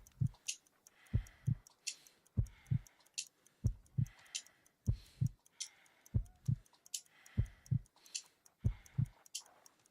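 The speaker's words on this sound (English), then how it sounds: "I need to concentrate and count the heartbeats." A heartbeat thuds in a steady lub-dub rhythm during a pulse check in the video game Riddle on the Rails, about eight paired beats, faint and close, with soft ticking above.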